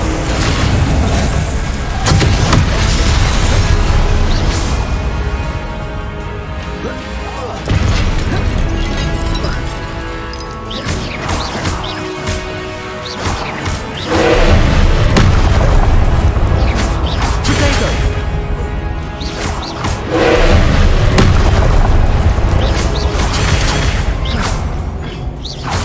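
Repeated Confringo and Incendio spell blasts from Hogwarts Legacy combat boom and crash again and again across a long, loud stretch of dense battle sound, each impact landing as a sharp burst over continuous roaring game effects.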